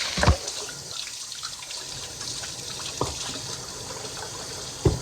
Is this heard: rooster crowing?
no